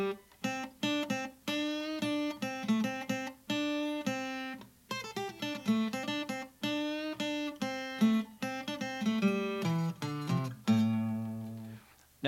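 Lead electric guitar runs through quick scale notes with note bends, a dense stream of plucked tones with brief gaps, ending on a sustained bent note; played alone with no talking.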